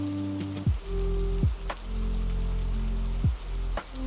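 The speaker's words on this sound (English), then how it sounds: "Only the rain finding the window." Rain hitting a window at night, a steady patter under a low droning tone with occasional soft thumps, continuous and fairly close.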